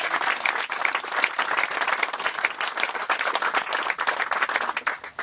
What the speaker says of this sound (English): Martin Beacon should get a special round of applause for all he's done to make that happen